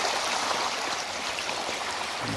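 Creek water flows steadily close by among bushes and boulders, a continuous broadband rushing and babbling with no break and no talk.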